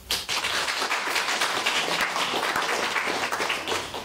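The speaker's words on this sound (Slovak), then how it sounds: "A tiež potlesk pre nich." Steady, dense audience applause fills the room at an event in an old dining hall, with many hands clapping at once, loud and continuous throughout and no speech over it.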